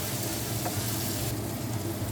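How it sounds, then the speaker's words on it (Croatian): Peppers and onion frying in a pan for Leskovačka mućkalica, a Serbian stew, a steady close sizzle with faint stirring, no voices. "par minuta ćemo da pržimo ovu papriku"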